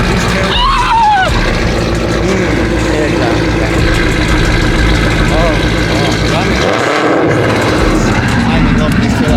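A Ford Mustang S197 engine idles loudly nearby with a deep, rough rumble and short blips of revving, while someone talks over it.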